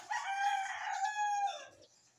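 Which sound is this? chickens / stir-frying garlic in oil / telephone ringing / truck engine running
chickens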